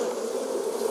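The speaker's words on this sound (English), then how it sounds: "Murder hornets." Murder hornets buzzing, a loud, close, continuous insect drone with a steady tone and no pauses or voices.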